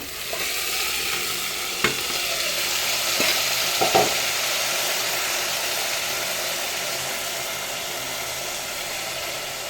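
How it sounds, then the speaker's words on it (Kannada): Washed rice fries in ghee for ghee rice, a loud continuous hiss of frying with a few spoon scrapes as it is stirred, heard close and unbroken with no talking. "ನೋಡಿ ಚೆನ್ನಾಗಿ ಫ್ರೈ ಆಗ್ತಾಯಿದೆ"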